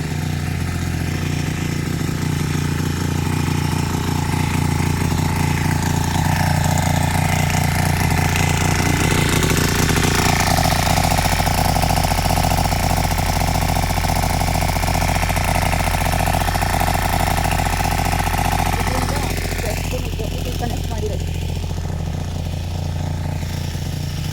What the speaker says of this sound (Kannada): ಕೃಷಿ ಹೊಂಡದಲ್ಲಿರೋ ನೀರನ್ನ ಮೋಟ್ರಿಟ್ಟು ಮೇಲೆತ್ತಿ ಜಟ್ಟಿಗೆ ಕನೆಕ್ಟ್ ಮಾಡಿರೋದು